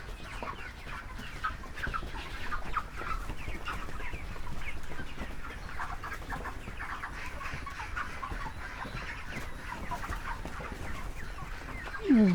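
Chickens on a poultry farm during cold weather, many resting and some feeding, give off a steady, dense chorus of clucking and murmuring across the whole stretch at moderate loudness, with no voices over it.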